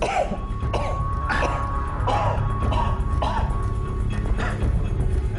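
A patient fighting an unknown virus with a very high fever coughs repeatedly: harsh, close bursts over several seconds above a steady low background hum.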